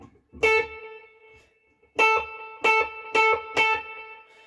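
Electric guitar chords struck one at a time through a Boss effects unit, ringing out with a washy reverb and delay tail, five separate strums with pauses between.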